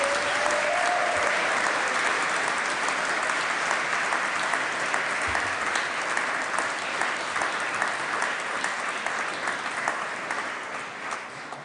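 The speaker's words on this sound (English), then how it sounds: "can we have a round of applause, please, for the people that have supported you?" Sustained applause from a large graduation ceremony audience honouring the graduates' supporters, dense and steady for the whole stretch before thinning slightly at the end.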